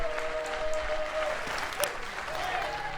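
Crowd at a Florida State vs Virginia college softball game rises and applauds, a steady broad wash of clapping and cheering with a faint tone running through it.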